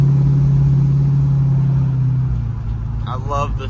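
A 1972 Ford Mustang Mach 1 drives along with a steady, low engine drone that eases off partway through. Some faint background sound enters near the end.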